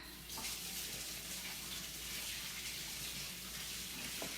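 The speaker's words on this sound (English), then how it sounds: "I'm gonna wash my hands real quick." A kitchen tap runs steadily while hands are washed beneath it, a close, even hiss of flowing water with no speech.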